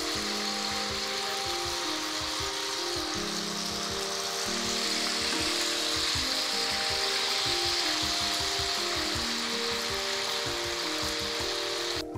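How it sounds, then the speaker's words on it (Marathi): Falahari vade deep frying in hot oil give a dense, steady hiss and bubbling that holds at an even level throughout, close and continuous with no talking. "असं त्याला मस्त अगदी डीप करून घ्यायचा आणि हा तेलामध्ये सोडायचा. अशाच तुम्ही सगळे वडे तेलात सोडू शकता."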